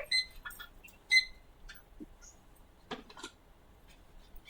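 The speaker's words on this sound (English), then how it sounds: "My alarm goes off and then you got mail at the same time." Phone alarm and email notification tones sound together, a few short bright chiming beeps near the start, then sparse small clicks and blips in a quiet room with no talking.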